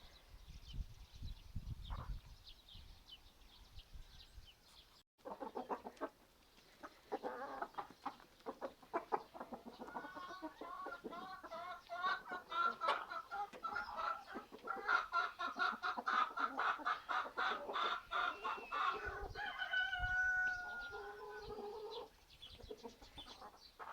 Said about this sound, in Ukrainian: Це всі кури також наші, домашні.